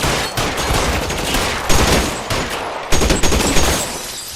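Heavy, continuous gunfire in an L.A. Noire shootout, dense overlapping shots and bursts rolling on for several seconds with sharper loud cracks near the end.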